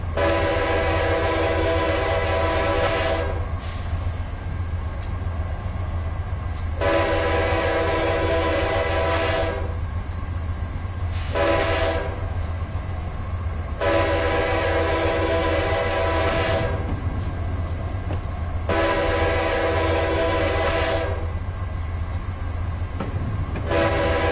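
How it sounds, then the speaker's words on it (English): An Amtrak Dash 8 locomotive in Train Simulator 2016 sounds its horn in a long, long, short, long sequence. The blasts are loud and close over a steady engine rumble, and there is no talk. "a 14 L is a long, long, short, long horn sequence"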